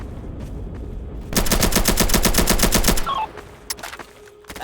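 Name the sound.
gunfire from machine guns in a video game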